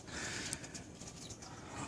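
Pigeons coo softly in a racing pigeon loft, faint and somewhat distant, with a few scattered chirps over a low, steady background.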